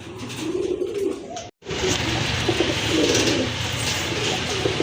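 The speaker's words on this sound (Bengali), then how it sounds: "খুবই চমৎকার এক জোড়া কবুতর" A pair of light-coloured pet pigeons for sale cooing close by, a continuous throaty, rolling coo with a brief gap partway through, surrounded by bustling background noise.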